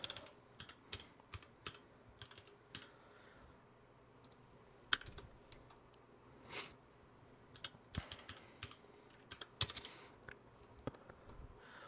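An account name being typed on a computer keyboard: irregular bursts of close, quiet key clicks with brief pauses, no talking.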